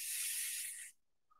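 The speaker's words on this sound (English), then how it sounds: "And just spray it on the back." Pixie spray hisses from a can onto the back of a card, one steady close burst of just under a second before cutting off into quiet.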